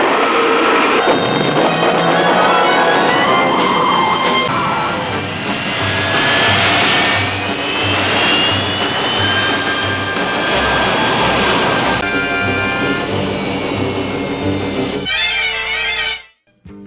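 A Batmobile turbine jet engine effect roars loudly and steadily for a long stretch, with whining tones that rise and shift across it. It then cuts off abruptly near the end, and no one speaks.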